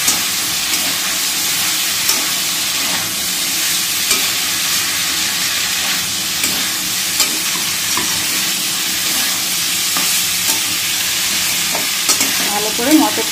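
Boiled chickpeas, potatoes and peas stir-fried in a pan of spice masala, a loud continuous sizzle and hiss with scraping stirs throughout, close and steady with no talking.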